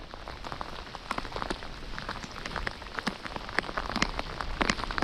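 Heavy rain pours down steadily during a fishing outing, dense drumming of drops on surfaces with scattered louder splats, close and constant throughout with no talking.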